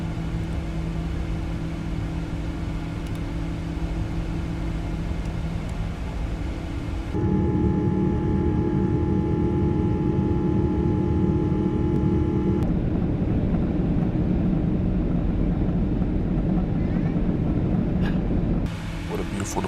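Boeing 777-200ER jet climbing out of Honolulu after takeoff in Microsoft Flight Simulator 2024, a steady loud engine roar with tonal hum that swells partway through, continuous throughout.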